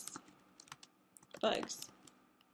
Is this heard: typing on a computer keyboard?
yes